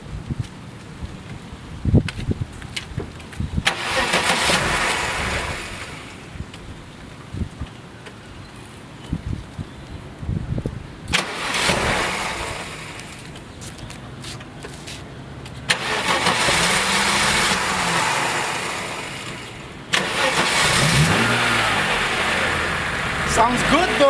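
A Mercedes-Benz E280 engine cranks and catches, then settles into a steady idle, with people talking nearby in between and over the running motor.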